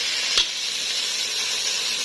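Koshari ingredients sizzle in onion-flavoured oil in a pan, a steady close hiss of frying with one brief clink near the start, no voices.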